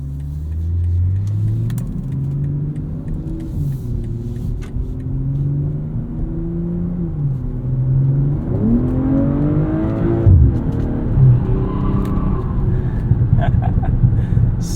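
A 2023 BMW M340i xDrive in Sport Plus revs up from inside the cabin, its engine note climbing steadily with gear changes and a louder, rougher surge of acceleration near the end.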